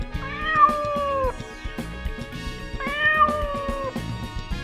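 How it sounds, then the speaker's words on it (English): A domestic cat meows twice, each call drawn out and clear, with a short gap between them and no talking over them. "This is cat. What sound does it make?"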